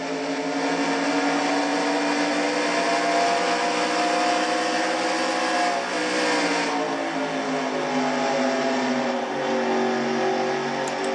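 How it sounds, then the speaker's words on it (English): A stock car engine losing power during a Castrol GTX Cup Series race, its steady drone sagging and wavering in pitch as acceleration fades, loud and continuous throughout with no talk. "That engine is dying on the number 11 machine of Adrienne Becker's."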